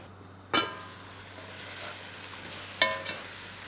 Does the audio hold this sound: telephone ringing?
no